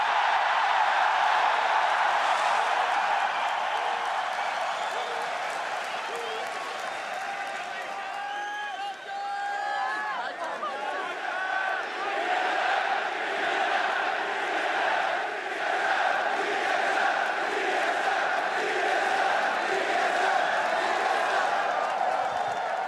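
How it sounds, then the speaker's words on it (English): A large crowd in an esports arena at the LCS summer final roars continuously, with whoops and rising waves of cheering, loud and sustained throughout, with voices mixed in. "this crowd is nuts"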